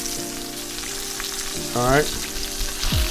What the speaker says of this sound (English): So I'm gonna get a nice sear on this side.